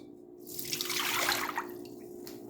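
Warm water, about 100°F, poured into a mixing bowl for pretzel dough, a steady splashing stream that swells in the middle and tapers off, close and alone over a faint hum.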